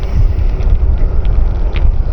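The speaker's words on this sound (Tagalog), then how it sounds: "Pero super lakas ng hangin." Strong gusting wind roars loudly and steadily into the microphone during a motorbike ride in Dingalan, a dense low rumble with no voices.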